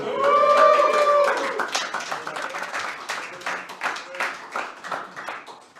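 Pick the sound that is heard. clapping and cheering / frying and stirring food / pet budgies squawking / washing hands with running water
clapping and cheering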